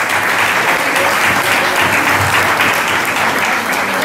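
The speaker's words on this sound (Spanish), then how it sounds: "Un aplauso a nuestro" Loud, sustained applause from a crowd of diners at a restaurant dinner for a historic vehicle club, a thick, even roar of many hands clapping continuously throughout.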